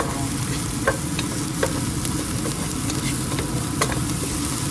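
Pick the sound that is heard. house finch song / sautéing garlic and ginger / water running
sautéing garlic and ginger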